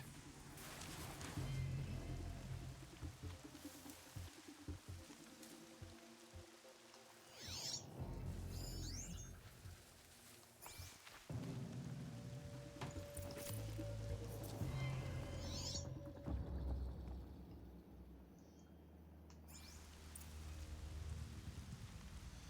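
Steady rain falls across a Horizon Zero Dawn game scene, a continuous wash of patter with occasional brighter splashes and soft game effects, loud and constant throughout with no talking.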